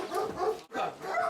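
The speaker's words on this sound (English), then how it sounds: "A couple more puppies." Puppies whimper and yip close by in two short whiny bursts separated by a brief gap, high-pitched and plaintive.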